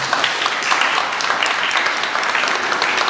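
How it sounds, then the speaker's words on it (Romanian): Audience at a Romanian cultural centre event applauding the painting camp coordinator, a loud, dense, sustained wash of clapping from many hands with no talk over it. "vă rog să o aplaudați"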